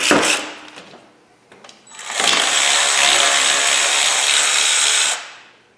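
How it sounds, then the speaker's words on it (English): A cordless DeWalt ratchet built for Mac Tools, used on a Honda van's charging system, gives a short buzz, then runs in one loud sustained whir for about three seconds before winding down. "This is actually a DeWalt ratchet. It's made for Mac Tools."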